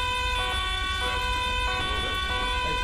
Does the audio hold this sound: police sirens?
yes